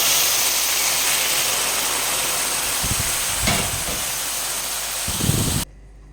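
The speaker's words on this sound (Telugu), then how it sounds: "ఈ టైంలో అయితే పొంగు వచ్చిన పాలనైతే వేసేయాలన్నమాట" Boiling milk poured onto vermicelli fried golden in a pot gives a loud, steady hiss and sizzle with a few brief thuds, then cuts off abruptly near the end.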